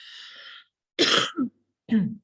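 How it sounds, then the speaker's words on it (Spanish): A few harsh coughs close up, with a throat-clearing quality, coming in quick bursts after a brief hiss, with no talking. "Mil disculpas por la tos."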